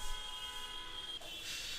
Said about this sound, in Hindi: अरे कितना हॉर्न बजाएगा यार